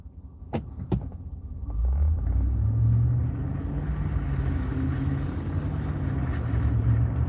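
A four-wheel-drive vehicle's engine rumbles steadily while driving through a blizzard, rising to a loud, continuous low drone after a couple of brief knocks, with no talk.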